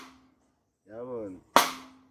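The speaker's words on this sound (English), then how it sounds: "Rim shot." Drum rim shot, a single sharp loud crack near the end of a brief clip, preceded by a short spoken phrase and a faint ringing drum tone.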